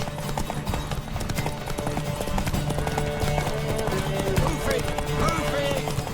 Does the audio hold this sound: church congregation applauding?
no